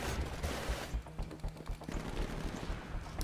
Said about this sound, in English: And of course the silencer, I can shoot these guys